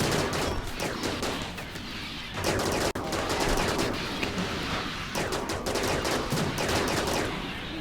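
Turrets firing on mechanoids in the colony game RimWorld, with sustained rapid automatic gunfire in dense overlapping bursts that stay loud and continuous throughout, with no talking.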